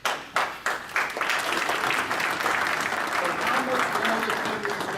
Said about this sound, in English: I would like everyone to applaud.